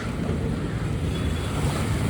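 Rushing floodwater over a fully submerged road in Jaffna makes a constant, dense wash, close and unbroken, with wind noise on the microphone and no voices.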